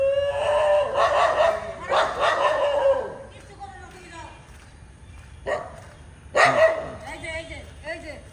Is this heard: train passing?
no